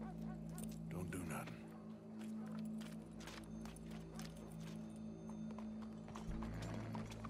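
Horse hooves clip-clop on a road in Red Dead Redemption 2, a steady rhythmic trot under engine-like low hum and game ambience.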